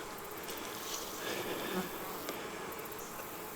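Honey bees buzz around beehives in a bee yard in fall, a soft, continuous swarm hum with individual bees droning nearer and farther as they fly past, no speech over it.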